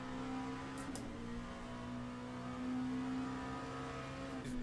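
Race car engine coasting in the iRacing video game in rain conditions, a steady low drone with a faint whine, sounding almost switched off, with a couple of brief clicks.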